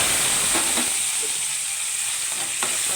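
Steady frying sizzle of chopped tomatoes in hot oil with a bright hiss throughout, a few soft clinks and scrapes of stirring over it, no voices.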